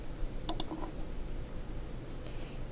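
A computer mouse clicks a few times in quick succession at close range while someone works in CAD software, with faint background hiss and no talk.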